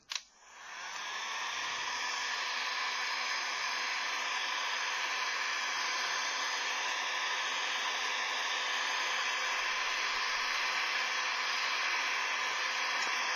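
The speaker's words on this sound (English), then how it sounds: "I'm sorry if it gets a little bit noisy. That's just the nature of the heat gun." A heat gun warming a Sintra plastic sheet starts with a click and then blows a loud, steady, unbroken roar of air that holds evenly throughout.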